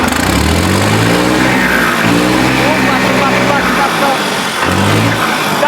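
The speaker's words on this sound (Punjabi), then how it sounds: "ਬੜਕ ਵੀ ਘੈਂਟ ਆ ਟਰੈਕਟਰ ਦੀ" A loud tractor engine, a 480 model, revs and roars steadily, rising and falling slightly, close by and dominating the scene.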